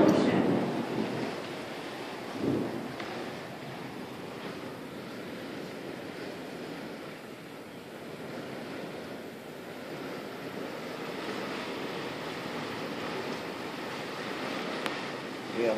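Ocean surf and storm rain during a coastal storm at Somers Point, New Jersey, a steady broad roar of waves and downpour with wind, continuous and moderately loud, with no clear talk over it.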